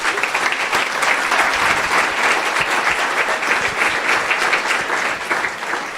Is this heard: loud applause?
yes